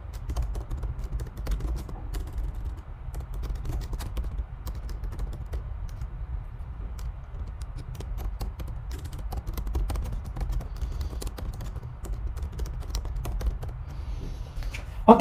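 Steady typing on a computer keyboard while setting up an online form, rapid close key clicks continuing throughout over a low background hum, with no talking.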